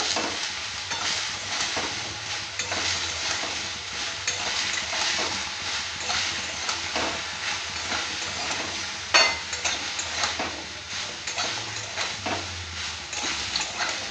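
Spice masala with salt sizzles in a pan for a ridge gourd and sesame dish, stirred continuously with loud, close scraping strokes over an even frying hiss; no talking.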